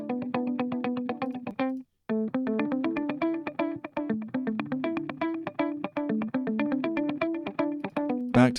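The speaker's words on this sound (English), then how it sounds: "Up against the Valhalla Delay." A synth sequence played through the Valhalla Delay plugin, rapid repeating plucked notes with echoing repeats, steady and loud, with a brief gap near the middle and no talking.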